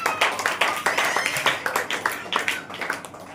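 Standing church congregation claps in a steady, even rhythm, with many hands together at a moderate distance and a faint voice beneath.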